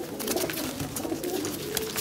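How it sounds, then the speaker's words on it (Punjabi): Racing pigeons coo softly at close range in a low, continuous murmur, with faint rustling and ticks around them and no talking. "ਸਾਰੇ ਕਬੂਤਰਾਂ ਨੂੰ ਦਿਖਾ ਦੇ"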